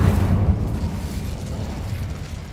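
An Incendio fire spell cast in Hogwarts Legacy, a loud rumbling whoosh of flame with a low booming burst at the start that rolls on and slowly fades over a couple of seconds.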